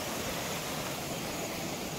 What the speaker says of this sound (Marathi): हा सुंदर असा नितळ धबधबा आलेला आहे वरून